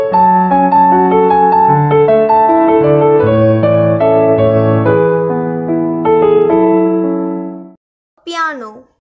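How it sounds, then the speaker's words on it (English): A piano plays a short melodic passage with chords for about eight seconds, clear and close, then fades out before a voice speaks briefly. "This is a piano. This is a sound of piano."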